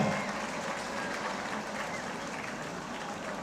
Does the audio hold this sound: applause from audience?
yes